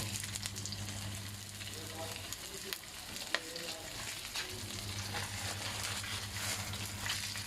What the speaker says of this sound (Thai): จะดุมน้ำมันแตก คั่วให้มันหอมเนี่ย